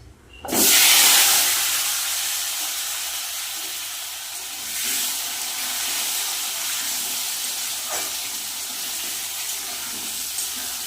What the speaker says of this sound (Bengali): ওলকচুটা আগে একটু ভেজে নেবো ভালো করে